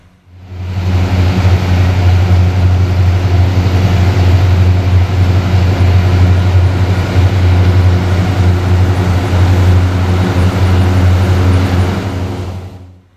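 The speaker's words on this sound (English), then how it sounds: "here's the end of him pulling the truck out with this Cat Challenger" Heavy Cat Challenger tractor engine droning steadily under load while pulling a stuck truck out in an onion field, a loud, continuous low rumble that fades in and out at the ends.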